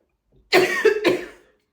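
Two or three harsh, wet coughs in quick succession, close and loud, with no other sound around them.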